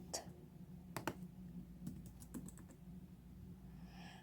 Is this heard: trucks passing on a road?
no